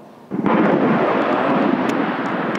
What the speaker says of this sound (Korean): 미군 아파치 헬기가 굉음을 울리며 마을 위를 통과합니다.